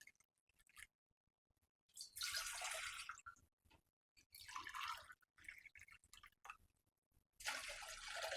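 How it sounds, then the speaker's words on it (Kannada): Water is poured into a separate steel vessel for sajjige, heard as three loud rushing bursts separated by short quiet pauses, close up with no talking. "ಆ 1 ಗ್ಲಾಸ್ ರವೆಗೆ ಇವಾಗ ಸಪ್ರೇಟ್ ಪಾತ್ರೆ ತಗೊಂಡು ಅದಕ್ಕೆ 3 ಗ್ಲಾಸು ನೀರು ಹಾಕೋತಾ ಇದ್ದೀನಿ."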